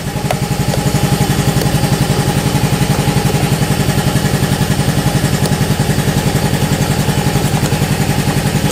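A Yamaha Fazzio Hybrid motorcycle engine runs steadily at idle, close and loud, with a rapid, even chugging pulse and some mechanical clatter.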